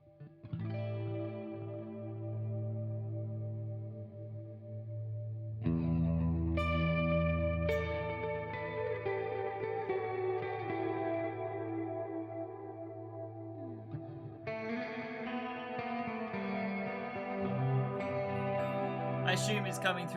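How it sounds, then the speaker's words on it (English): An electric guitar played through a pedalboard of effects with added reverb rings out in sustained, shimmering chords and notes, layered with chorus and distortion, with washes of echo that shift as new chords are struck. "Could try adding reverb."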